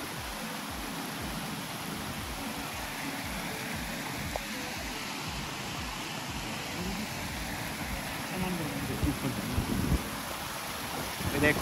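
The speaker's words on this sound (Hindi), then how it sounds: "दोस्तों ये देखो एक और वाटरफॉल आ चुका है रास्ते में" A waterfall pours across a mountain trek path between McLeodganj and Triund, its steady broadband rush filling the scene continuously and close, growing slightly rougher toward the end.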